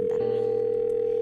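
A telephone dial tone sounds while a call is being placed, steady and continuous after a brief click at the start, with no one speaking.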